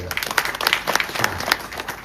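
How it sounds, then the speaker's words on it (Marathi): A crowd at a kirtan gathering applauds the sound system operator, steady scattered hand clapping at moderate loudness throughout, with voices faintly mixed in. "टाळ्या वाजवा त्यांच्यासाठी."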